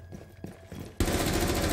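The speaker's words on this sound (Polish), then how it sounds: "No coś tam się strzela." Sustained automatic gunfire in Rainbow Six Siege bursts in loudly after a second of quieter game noise and scattered shots, then holds as a dense continuous rattle.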